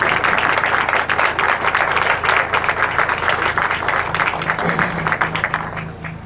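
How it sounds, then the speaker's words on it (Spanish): An audience claps at the launch of a penguin-watching season, dense and continuous applause that stays loud for several seconds before easing slightly at the end, with a low hum underneath. "así que creo que merece un gran aplauso en principio"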